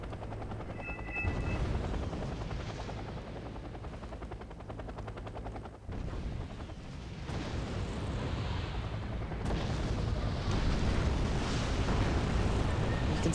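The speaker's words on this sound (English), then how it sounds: "You can see here all these rockets." Rocket and artillery fire in the video game Wargame: AirLand Battle, a dense, continuous roar of distant blasts and rumbling over a steady helicopter-like drone, swelling louder toward the end.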